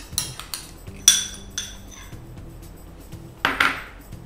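Kitchen handling of a blending jar and yogurt for a ginger mint lassi: a few sharp clinks and knocks of glass and utensils, close and fairly loud, spaced apart with a scraping rattle near the end, no talking.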